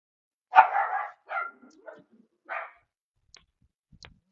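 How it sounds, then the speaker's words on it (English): A pet dog named Coco barks several times indoors during a watercolour cardmaking session, with three or four sharp, fairly close barks followed by faint scuffling and quiet clicks. "there's obviously a dog."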